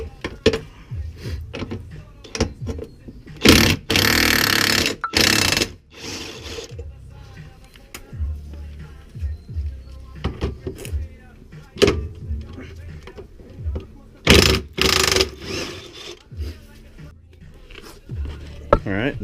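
A ratchet wrench removes 17mm subframe nuts on a Nissan 240SX in a garage, rapid close clicking bursts alternating with louder spinning ratchet runs, while someone talks intermittently.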